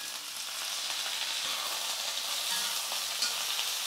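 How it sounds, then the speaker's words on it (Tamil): Diced potatoes and onions frying in hot oil in a home kitchen, a steady close crackling sizzle with faint stirring scrapes throughout and no voices. "இந்த எண்ணெயிலே வந்து உருளைக்கிழங்கு வெங்காயம் வந்து நல்லா வதங்கணும்"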